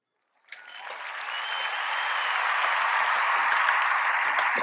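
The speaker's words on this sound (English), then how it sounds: "Applause." An audience bursts into applause after a guest is introduced, the clapping rising quickly from silence into a dense, sustained roar that stays loud and even to the end.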